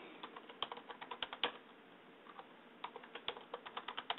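A password typed on a computer keyboard: quiet, rapid clicking keystrokes in two bursts separated by a short pause.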